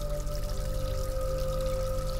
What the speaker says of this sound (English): Fill the pot with water.